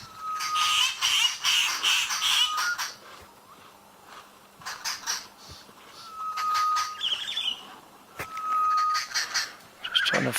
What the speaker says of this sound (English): You can hear the birds. It's in some thick trees at the moment.